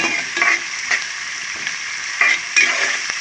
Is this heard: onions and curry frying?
yes